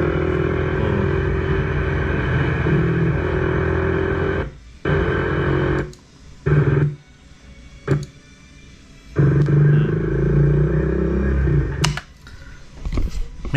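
A Bajaj Dominar motorcycle engine runs with a steady, close rumbling drone that cuts out abruptly several times before resuming, loud throughout.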